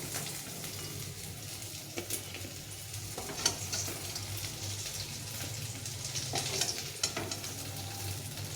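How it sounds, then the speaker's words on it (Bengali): Snakehead fish pieces fry in hot oil in a pan, browning to a reddish colour, giving a soft continuous sizzle with a few light clinks and scrapes of stirring and no voices. "এইভাবে লাল লাল করে মাছগুলো ভেজে নিয়েছি"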